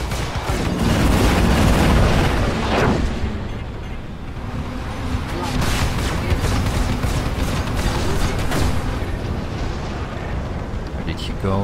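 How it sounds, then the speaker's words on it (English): Weapons fire from a Gladiator fighter ship during a Star Citizen Arena Commander space dogfight: loud, sustained booming blasts and rumbling bursts roll on continuously, with talk over part of the action. "Let's fire at him."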